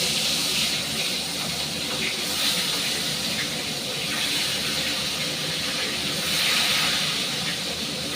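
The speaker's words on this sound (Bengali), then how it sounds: "এবার মাছটা আমি বেশ লাল লাল করে ভেজে নেব" Catla fish pieces rubbed with salt and turmeric frying in hot oil, giving a dense, steady, close sizzle and hiss that runs unbroken with no talk.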